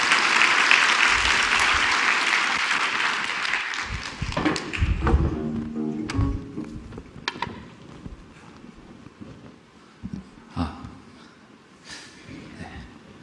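An audience at a church music gathering claps in steady applause for about four seconds, then it thins into a few scattered claps and taps that fade out.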